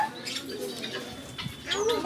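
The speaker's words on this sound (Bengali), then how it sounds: "এগুলো টুনটুনি পাখি। চই চই করছে।" Soft tailorbird chirps and calls scattered through the clip, with a busy background of other birds and faint voices nearby.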